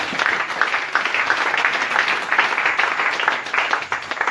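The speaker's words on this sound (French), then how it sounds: "Applaudissez pour le Seigneur." A church congregation applauds steadily for a few seconds in a dense, continuous patter of clapping, fairly near and with no pauses.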